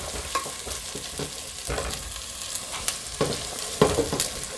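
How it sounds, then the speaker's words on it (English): Sliced ginger hitting hot oil on an electric stove, a close, steady sizzle with scattered crackles and stirring scrapes for several seconds, no talking. "now we've got the oil nice and hot. Gotta get this ginger on here"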